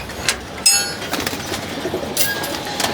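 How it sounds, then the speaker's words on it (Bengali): Pigeons flutter and coo nearby, with bursts of wing flapping as the birds take off, over faint background noise. "এখানে বাকি কবুতরগুলোকে ছেড়ে দিচ্ছি।"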